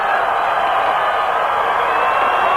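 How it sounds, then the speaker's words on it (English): Dense, steady crowd cheering fills a high school football state championship game at Jeffco stadium, Arvada West Wildcats versus Bear Creek Bears, a continuous loud wash of voices with no breaks. "a great crowd here today at Jeffco on a wonderful day for football, making some noise"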